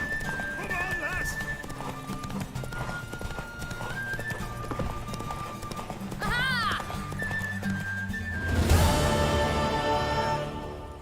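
Horse hooves clip-clop steadily with a neigh partway through, set against a busy soundtrack and voices in The Witcher 3 video game.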